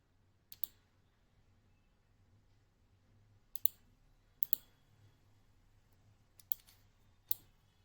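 A computer mouse gives a handful of sharp, isolated clicks, some in quick pairs, spaced irregularly over a quiet room hum with no speech.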